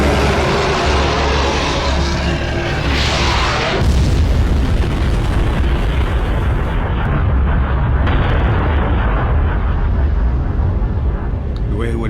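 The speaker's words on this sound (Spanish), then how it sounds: "Ondas expansivas de la explosión calentaron el aire y produjeron vientos calientes" A deep, continuous roaring rumble with broad, dense noise, like the blast and shock wave of a huge explosion, sustained and loud throughout.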